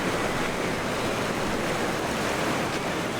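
The natural stream beside the alewife fish ladder at Damariscotta Mills, Maine rushes over rapids as a loud, steady, broadband roar of churning water that fills the whole moment without a break.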